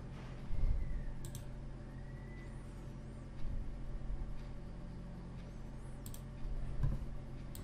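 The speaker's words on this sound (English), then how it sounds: "just double left click it to extract this zip file" A computer mouse gives a few faint left-button clicks, with quick paired taps near the start and again near the end, over a low, steady room hum.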